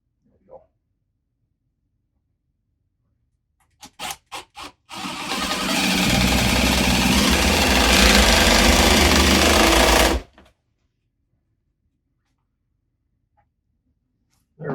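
Power drill driving a bolt into a wall to mount a coat rack: a few short trigger pulses, then about five seconds of steady loud whirring that cuts off abruptly.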